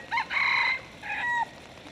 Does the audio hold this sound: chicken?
yes